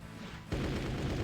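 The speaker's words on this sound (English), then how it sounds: "Oh, where are those explosions from?" Explosions in the video game Doom, played through a custom megawad: a sudden loud burst of broadband rumble cuts in and keeps booming steadily, with no talk over it.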